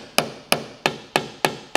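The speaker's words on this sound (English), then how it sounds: "Now, I am using a blending hammer just for the camera shots." A blending hammer taps down a hail dent on a car body panel, five sharp metallic taps evenly spaced about a third of a second apart, close and clear with no talking.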